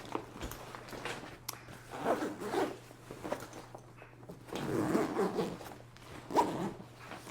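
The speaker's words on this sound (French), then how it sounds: "Je vais ouvrir le sac, il s'ouvre par en dessous." The zipper of a carry-on bag is pulled open in a few short, quiet rasping runs, spaced apart and heard close, over faint background noise.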